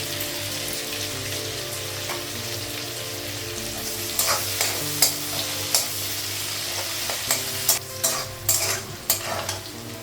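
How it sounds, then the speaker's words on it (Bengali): Onion, green chilli, dried red chilli and panch phoron fry in oil in a pan, a steady sizzle with sharp scraping stirs growing louder and more frequent toward the end, no voices. "পেঁয়াজটা ভাজা হয়ে গেছে,"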